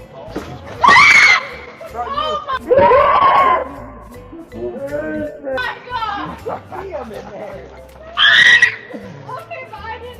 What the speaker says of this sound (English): Best scream of the day.